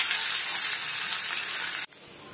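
Ginger paste fries in ghee and oil, a close, bright steady sizzle that cuts off abruptly near the end, leaving a quieter tail.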